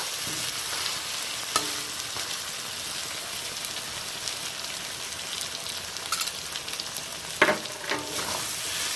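Chicken frying in oil after coriander leaf paste goes into the pan: a steady, quiet sizzle throughout, with a few sharp clinks of a spoon against the pot.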